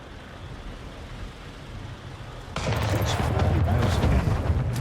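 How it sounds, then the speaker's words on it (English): Warships open fire in Anno 1800, a rolling burst of rapid cannon reports that breaks in abruptly over a low rumbling background and keeps going to the end. "They start firing right away."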